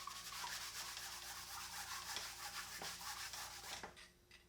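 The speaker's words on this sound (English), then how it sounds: "After a few coats with the sprayer and some light hand sanding," Close, steady hand sanding on a wooden desk, a continuous rasping rub that swells and fades with each stroke.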